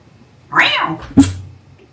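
A cat yowls once in a loud, drawn-out wail, followed by a sharp, sudden cry a moment later, both close by and alone.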